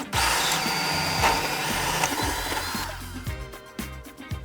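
A jigsaw with a slightly bent blade cuts through foam during deck leveling work: a close, buzzing reciprocating whine that runs steadily, then sputters into short uneven bursts near the end.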